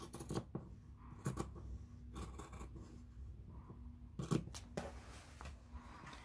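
Scissors snip through fabric for a sewing project, with several short sharp cuts spaced apart and quiet handling between them, close and fairly soft.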